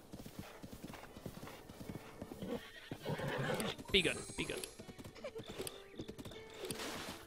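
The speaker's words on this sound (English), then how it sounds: "Got a horse." A horse in Zelda: Breath of the Wild clip-clops in a quick steady trot, with a loud whinny partway through and someone talking over the hoofbeats.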